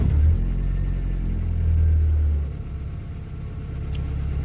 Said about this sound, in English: Let me start by starting the car and you will see